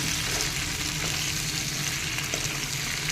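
Thin potato slices fry in a pan while being stirred and mixed, a steady close hiss of sizzling oil with faint scraping under it, unbroken and without talking.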